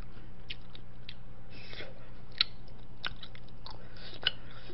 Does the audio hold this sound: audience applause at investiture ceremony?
no